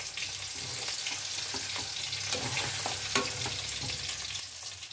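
Lentils and radish greens are stirred with a spoon in a cooking pot over a low simmering sizzle, with scraping strokes that come up close and steady.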